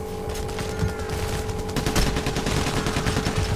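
Rapid gunfire from the video game Payday The Heist: dense bursts of overlapping shots in quick succession, loud and close, forming a continuous fusillade.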